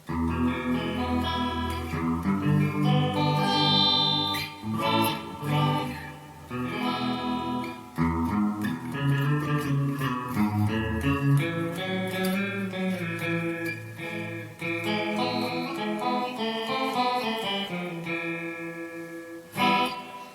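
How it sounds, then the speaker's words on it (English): An electric guitar plays chords and melodic runs through the detune setting of a Donner noise killer chorus pedal, a shimmering, detuned chorus giving a wide, wavering tone with no talking. "Now let's try the detune setting. And this is a cool setting because it's like a chorus."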